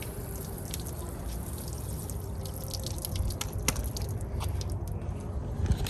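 Water sprays over a dusty window during a car detail, a steady close hiss with occasional drips and splashes and no voices.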